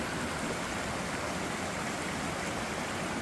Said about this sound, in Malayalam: കൊച്ചു കൊച്ചു അരുവിത്തോടുകൾ.